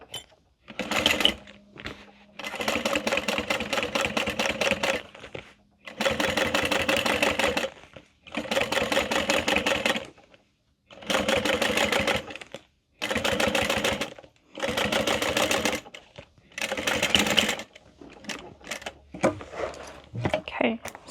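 A sewing machine top-stitches a backpack flap in rapid mechanical bursts, each lasting a couple of seconds and split by short pauses. The whirring chatter is close and fairly loud, and no one talks.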